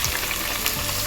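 Chopped onions land in hot oil with a dense, loud sizzle. The frying stays close and unbroken for the whole short moment.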